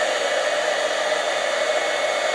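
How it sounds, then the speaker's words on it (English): An embossing heat gun blows hot air in a steady, loud, continuous whoosh with no variation, heard up close while scrapbooking. "take your embossing gun, heat it up, and watch the snowflakes come to life"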